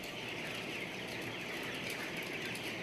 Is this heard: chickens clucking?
yes